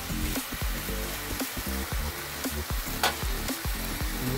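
Cabbage stir-fried for pancit canton guisado with garlic and snow peas in a hot pan, a dense loud sizzle beneath regular rhythmic scraping and tossing strokes, about two per second, near and continuous.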